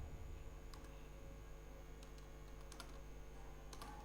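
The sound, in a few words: typing on a computer keyboard while writing Python code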